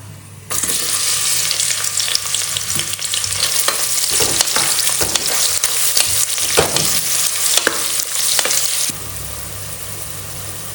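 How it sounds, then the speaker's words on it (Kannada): Chopped onions frying with garam masala in a pan for vegetable pulao, a loud, constant sizzle close by with repeated scraping strokes of a spoon. The hiss drops off abruptly near the end. "ಈರುಳ್ಳಿ ಈ ರೀತಿ ಪಿಂಕ್ ಆಗೋವರೆಗೂ ಫ್ರೈ ಮಾಡ್ಕೊಳ್ಳಿ ಸಾಕು."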